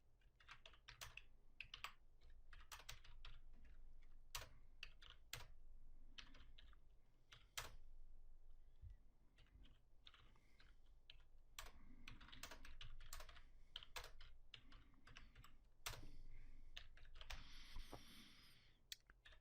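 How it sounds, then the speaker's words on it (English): Rapid typing on a computer keyboard, keys clicking in quick irregular bursts with short pauses, close and fairly quiet, with no voices. "I'm going to type out a sentence with some mistakes in it."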